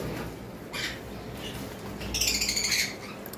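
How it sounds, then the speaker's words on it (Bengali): Cockatiels give short chirps, then a longer, rapid, warbling call, heard over a low background hum. "এখানে একটা পেয়ার ককাটেল রয়েছে"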